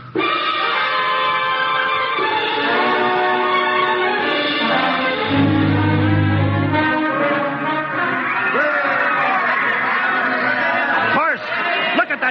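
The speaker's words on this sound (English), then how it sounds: "Crowd around the ship. Looks like we're being welcomed with a celebration, Captain." A crowd cheers and chatters around a ship during an old radio drama, with layered voices forming a steady, loud babble for the whole stretch and a low rumble swelling briefly midway.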